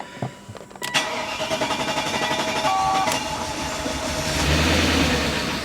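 A 1998 BMW 740iL engine cranks with a few clicks and catches on its first start after a new fuel pump, then runs roughly and loudly, its rumble growing steadily with a rattling, uneven idle.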